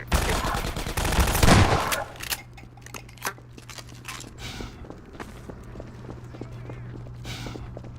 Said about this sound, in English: This is such a good shotgun. I love the shotgun in Half-Life.